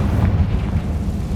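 A dull, rumbling magical blast from the Confringo spell in Hogwarts Legacy, a short, heavy boom with noisy low-end energy that fades over about a second.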